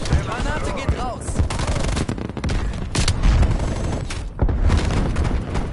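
Gunfire and a grenade blast in the video game Call of Duty: Black Ops Cold War, with dense, loud bursts of automatic fire and booming impacts, partly over speech.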